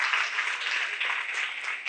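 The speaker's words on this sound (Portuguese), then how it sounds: "Aplauda o Senhor." A church congregation applauds the Lord, a dense steady wash of clapping filling the whole short moment with no break.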